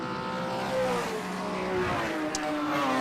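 Historic race cars, a Mazda RX2 and a Holden Torana among them, roar past at a circuit festival meeting. Engines rise and fall in pitch as cars sweep by, loud and fairly close.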